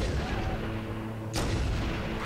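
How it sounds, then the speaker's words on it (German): Marines open fire in Halo CE Anniversary: a steady drone of battle noise gives way to a sudden loud burst of gunfire midway, heavy and booming, with no talk over it. "Jetzt schießen Marines."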